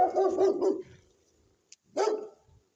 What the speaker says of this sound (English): It's the same breed of dog.